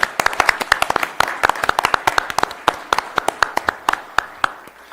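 Employee of the quarter honoree Katie Miller is welcomed at a county commission meeting with scattered hand clapping from a small audience. Distinct individual claps stay steady and fairly close throughout.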